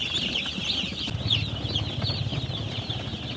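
Newly hatched chicks on a poultry farm, a constant dense chorus of high thin peeping from many birds at once, steady and fairly close over a low rumbling background.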